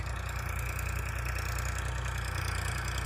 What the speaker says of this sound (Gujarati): તમે જોઈ શકો છો ટ્રેક્ટર ચાલુ છે